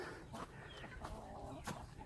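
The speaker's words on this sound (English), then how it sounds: "laying hens hang out up here" Laying hens in a coop on a hot summer day cluck in short, faint bursts spread across the moment, with low background noise.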